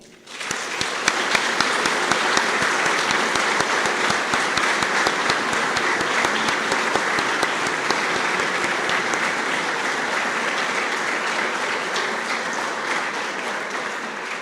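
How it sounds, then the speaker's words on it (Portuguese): Sustained, dense audience applause for the families of volunteer firefighters at a fire brigade's centenary ceremony, loud and steady throughout, with no voices over it. "para as famílias, eu pedia uma salva de palmas."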